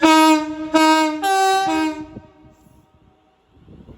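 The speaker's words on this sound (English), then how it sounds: "off goes the 11:33 London Overground" A London Overground train departing Watford Junction on the West Coast Main Line sounds several loud, close horn blasts, followed by a fading low rumble as it pulls away.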